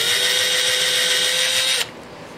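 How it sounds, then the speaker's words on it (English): A power drill bores screw holes in the body of a custom 12-string Rosa dreadnought guitar, a loud steady whine close by that stops abruptly near the end, leaving quiet room tone. "That way the drill follows that mark a little bit better."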